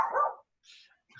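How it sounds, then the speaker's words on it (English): A dog walking past outside a classroom barks: one fuller bark followed by a couple of quieter, higher yips, faint and somewhat distant, with short silences between them. "There's another dog walking by, apparently."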